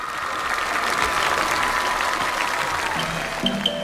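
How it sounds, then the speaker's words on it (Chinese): A studio audience on a Chinese variety show claps in steady, dense applause, close and sustained for several seconds, with a few sharper claps near the end. "掌声欢迎。"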